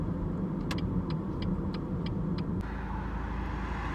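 A car rolling slowly into a TÜV Türk vehicle inspection station, its steady low engine rumble and road noise running throughout, with a series of faint short ticks or clicks near the start.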